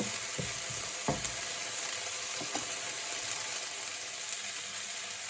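Peppers and tenderstem broccoli stir-fry on a stove at very high heat, a constant bright sizzle with a few knocks and scrapes of stirring, close and alone without talk.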